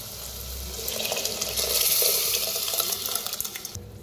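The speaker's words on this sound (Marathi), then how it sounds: "तर थोडंसं पाणी बी ओतते" Water poured into a cooking pot of dal and bitter gourd, a steady close gush and splash that swells and settles over a few seconds, with no speech.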